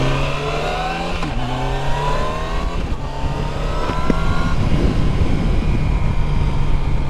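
A 2019 Yamaha FJR1300 ES sport-touring motorcycle engine under way, a loud steady drone with shifting pitch as it revs, mixed with constant wind rush, no talking.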